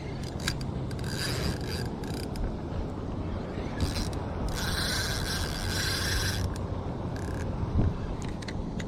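Fishing reel drag clicking and ratcheting in bursts while a kayak angler fights a big redfish in shallow inshore water over oysters, with rasping line and reel sounds heard up close and no talk.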